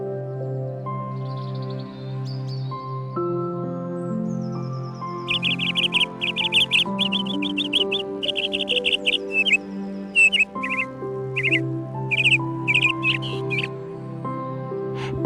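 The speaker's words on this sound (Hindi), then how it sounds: "पक्षियों की मधुर चहचहाहट" Birds chirp in short, bright bursts beside the Indrayani River, some repeated rapidly, over a steady bed of sustained melodic music that carries on throughout.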